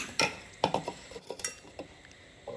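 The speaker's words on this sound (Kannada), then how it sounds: "ಈಗ ನಾನು ಮಿಕ್ಸಿ ಜಾರನ್ನು ತೆಗೆದುಕೊಳ್ತಿದ್ದೇನೆ" Close clinks and clatters of a mixer grinder jar being handled while making avocado juice, a few sharp knocks spaced irregularly, with no talking.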